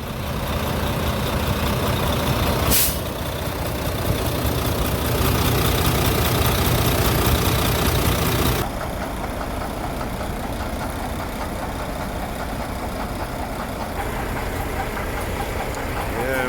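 Volvo semi truck engine idling loud and steady, its diesel running continuously with a rough, knocking character throughout, the sound thinning slightly partway through as if the listening position shifts.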